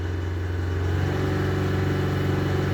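A Mazda CX-7 2.3 turbo petrol engine, about 170,000 km old, holds a steady rev near 3000 RPM, a close, even mid-pitched hum with no voices.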